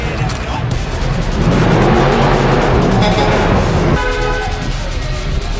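Loud, dense roar of a modified Ford Mustang's exhaust at the Cruisin the Coast 2023 car show, sustained and close with harsh popping bursts and a horn-like toot, continuing for several seconds amid crowd noise.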